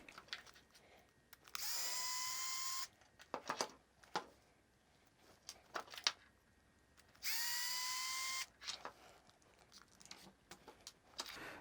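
An electric screwdriver spins out screws from a servo on a 1/10 scale Arrma RC truck, two whining bursts of a second or so each, separated by clicks and handling knocks, close and fairly quiet.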